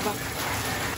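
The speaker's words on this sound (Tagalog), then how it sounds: "tunog ng ulanhan sa bubong. Malakas pa din." Steady, heavy rain drums on a roof, a dense continuous hiss filling the whole moment without pause.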